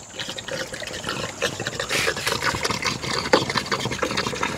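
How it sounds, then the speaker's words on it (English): Water drains steadily from a PVC pool pipe line after the pump is turned off, a continuous close splashing trickle and gush with no talk. "We got to try to get the water out of this line here."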